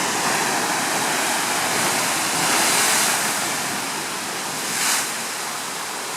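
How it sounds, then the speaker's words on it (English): Big ocean waves surge and crash at a blowhole, a loud, continuous roar of churning water with two swelling bursts as the surf pushes through. "Bring in the waves."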